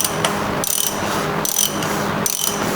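A ratchet wrench clicks rapidly and loudly in repeated strokes while tightening a new oil filter on a Mercedes ML63, with brief pauses between each run of close, rasping pawl clicks.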